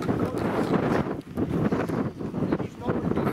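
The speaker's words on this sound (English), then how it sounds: "Wind. Takes a drift away up there." Wind gusting across an exposed fell top during a winter wild camp, a loud, steady roar buffeting the microphone with rising and falling surges throughout.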